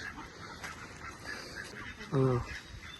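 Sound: ducks quacking nearby

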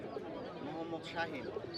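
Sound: pigeons cooing at a pigeon market

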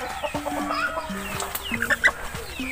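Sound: backyard chickens clucking

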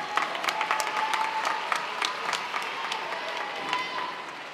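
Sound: graduation audience applause

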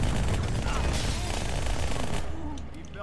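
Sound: gunfire from the video game Halo 2 Anniversary

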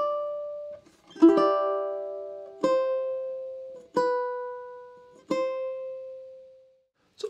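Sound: ukulele playing a piece from Zelda, measures three and four

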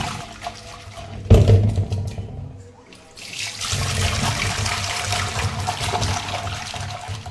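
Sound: tap water running while washing

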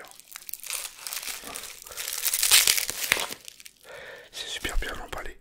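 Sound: unwrapping packaged microphone kit

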